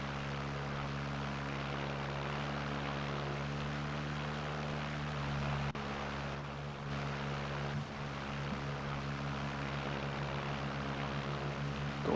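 Steady, droning aircraft engines in the Air Conflicts Secret Wars game, a continuous propeller hum held evenly throughout with no speech over it.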